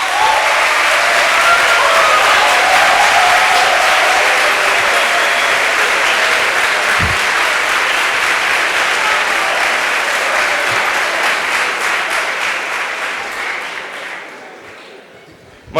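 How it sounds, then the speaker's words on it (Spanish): Sustained audience applause at a conference on globalization, loud and dense for about twelve seconds before thinning and fading out near the end; a few voices mingle faintly in the crowd. "el aplauso es desde luego para vosotros"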